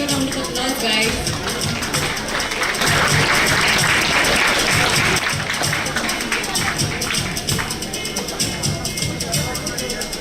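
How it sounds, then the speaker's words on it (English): Sustained applause from a student audience at a national chartered accountancy conference, dense broadband clapping filling the whole stretch at steady, loud level with voices mixed in. "Give a round of applause, guys."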